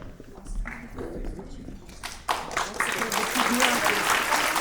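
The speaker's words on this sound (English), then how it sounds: "Please, round of applause for Maxim." Audience applause at a gala anniversary event, a scattered patter of clapping that swells into sustained, dense applause across the room, with some voices underneath.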